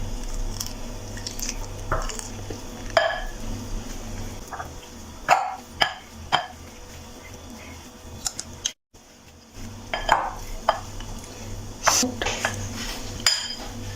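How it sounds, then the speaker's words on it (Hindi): Boiled potatoes are mashed in a bowl for aloo naan: intermittent squishy thuds and utensil clatter against the bowl, close up, with a brief silent gap midway. "आलू मैश हो गया।"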